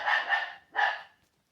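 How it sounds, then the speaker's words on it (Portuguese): A small female dog barks indoors, two loud, close, raspy barks with a short gap between them, heard alone without talking. "desculpa os latidos aí, que é latido da cadelinha da minha namorada aqui"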